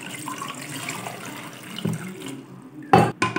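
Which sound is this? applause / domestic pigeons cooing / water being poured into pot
water being poured into pot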